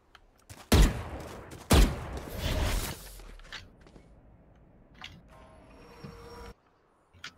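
Rapid bursts of gunfire in a competitive shooter match, two loud broadband volleys followed by fainter scattered shots and clatter, no voices.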